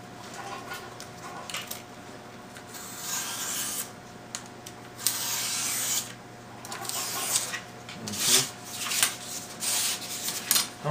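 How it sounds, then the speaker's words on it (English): Close hand rubbing of wax onto wood scraps, with bursts of scratchy friction strokes of varying length over a faint background hum. "We'll just wax them out here real quick."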